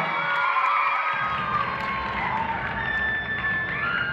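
An audience at a stage dance cover performance cheers, whoops and claps, a loud continuous wash of shouting voices with scattered high calls and clapping underneath.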